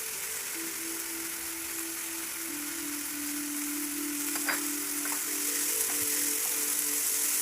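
Tomato pieces frying with chili powder and spices for chole masala, a steady hissing sizzle in the pan, close and even throughout, with a few light stirring ticks and a faint background hum.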